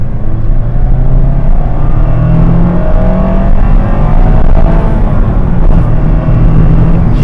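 A 2024 Mazda MX-5 Miata RF GT accelerates hard, its engine a steady loud drone with rising harmonic tones throughout, heard from inside the car with no talking.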